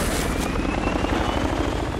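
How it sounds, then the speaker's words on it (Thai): Helicopter in the video game Battlefield 3 thudding with a steady, loud, continuous rotor drone, heard alone without voices. "เฮลิคอปเตอร์ครับให้มันยิงหรือเปล่า"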